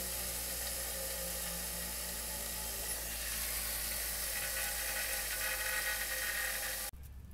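A ratchet tightens the bolts holding a trailer hitch bracket to a vehicle frame, a continuous close mechanical clicking and whirring that runs for about seven seconds before stopping abruptly.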